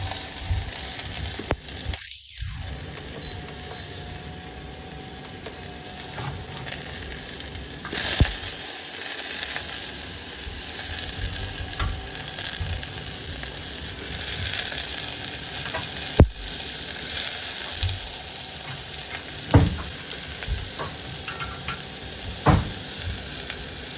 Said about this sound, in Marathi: इथे तुम्ही पाहू शकता तेल टाकल्यानंतर याच्यामध्ये कांदा टाकायचा आहे.